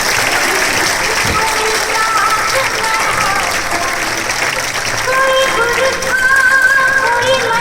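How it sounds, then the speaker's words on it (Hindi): Crowd applause at a Republic Day celebration honoring the mother of a fallen soldier, sustained clapping from a large gathering mixed with crowd noise and faint music tones, steady and fairly loud. "इस माता जी की एक बार जोरदार तालियां, जिन्होंने शहीद दिवाकर फलटनकर को जन्म दिया है।"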